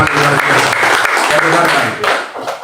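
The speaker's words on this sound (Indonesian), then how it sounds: "Kasih tepuk tangan, jangan cuma satu kali" Congregation applause during a church worship service in Jakarta, clapping rising under a voice that carries on over it, loud and close, dipping briefly near the end.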